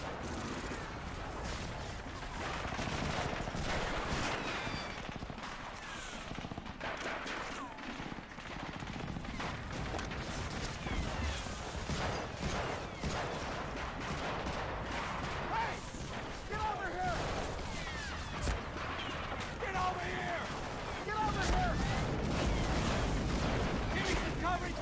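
Sustained covering gunfire on a beach landing in Medal of Honor: Frontline, rattling bursts and shots crackling continuously with dull explosions and shouting voices in the mix.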